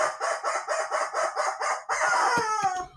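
A rubber chicken toy squawks close and loud: a run of rapid pulsing honks, then a strained, drawn-out wheeze as the squeeze ends.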